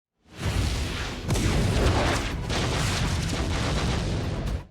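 A loud, roaring blast of fire in a tunnel scene from the Solo Leveling anime bursts in and sustains a rumbling whoosh for several seconds before cutting off abruptly.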